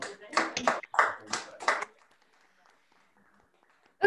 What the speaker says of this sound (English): one more round of applause and then we're moving on